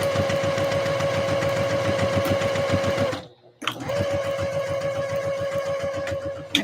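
A sewing machine stitching Christmas dresses runs in a fast, steady whirring chatter with a sustained hum, stops abruptly for about half a second, then resumes at the same rapid pace, loud and close with no talking.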